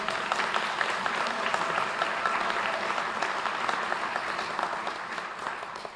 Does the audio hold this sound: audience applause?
yes